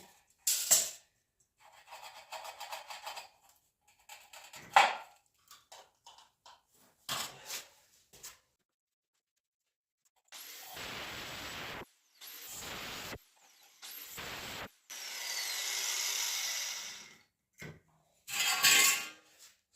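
Cutting a piece to 58 cm during a DIY room renovation, heard as several scraping, rasping bursts of varying length separated by pauses, fairly close and fairly quiet, with no talking.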